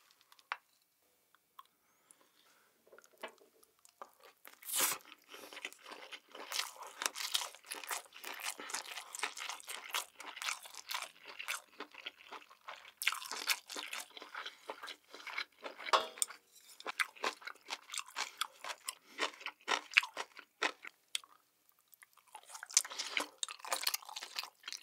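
Webfoot octopus (jjukkumi) with white rice is chewed close to the mic in a seafood mukbang, making a long run of wet crunchy bites and squelchy chewing with short pauses between mouthfuls.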